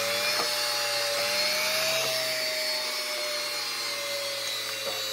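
A washing machine motor runs under pedal speed control, giving a steady, loud whirring drone with a faint whine that rises slightly in pitch as it speeds up, plus a few soft clicks.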